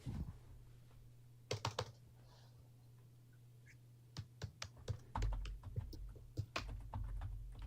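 Typing on a computer keyboard: scattered bursts of quick, crisp key clicks, close and fairly quiet over a low steady hum, with short pauses between runs.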